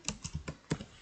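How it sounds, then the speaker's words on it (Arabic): Computer keyboard typing of the pip command, five quick close keystrokes in an uneven burst over about a second, soft and isolated. "طبعا نكتب نفس الشيء، نكتب pip"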